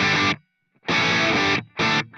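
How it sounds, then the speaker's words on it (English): Distorted electric guitar rhythm playing through an Atomic Amplifire Friedman amp model with the boost off: three loud, chunky chord stabs separated by short silences, with no voice. "With the boost off, it's my rhythm sound."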